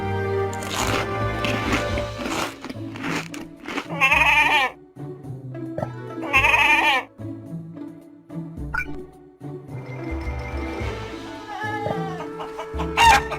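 Chickens cluck and a few sharper fowl calls rise above a steady musical bed, with a couple of louder bursts midway.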